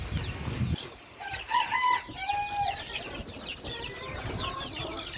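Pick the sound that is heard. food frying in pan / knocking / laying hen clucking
laying hen clucking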